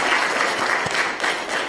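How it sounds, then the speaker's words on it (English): An audience at a conference closing session clapping for the live stream manager, a dense continuous patter of many hands at moderate volume. "So a round of applause, please,"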